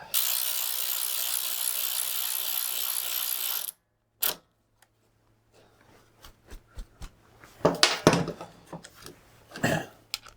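A ratchet drives a screw to fit a footboard bracket on a Kawasaki GT550, heard as scattered close clicks and clattering after a loud steady hiss that cuts off abruptly, followed by quiet gaps.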